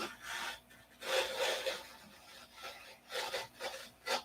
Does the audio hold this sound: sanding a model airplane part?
yes